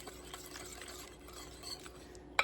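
Pumpkin muffin batter is stirred in a bowl, giving soft, faint scraping and tapping at close range, ending with a sharp utensil knock against the bowl.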